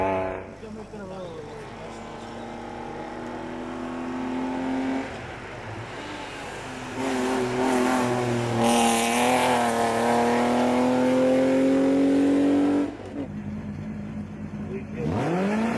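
Race cars leave the start of the Rampa da Falperra hill climb, a BMW 328iS among them, engines revving and rising in pitch as they pull away, growing louder, then a sharp cut as another car launches, under a commentator's voice.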